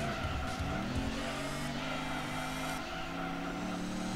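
Race car tires squeal and skid through a snap oversteer in Gran Turismo 2, a sustained wavering screech over a steady engine drone, close and continuous without voices.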